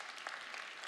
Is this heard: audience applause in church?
yes